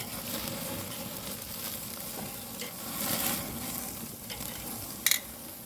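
A ribeye steak sizzles over a hot open fire just after its first flip, a loud continuous crackling hiss with flaring surges and a sharp snap near the end.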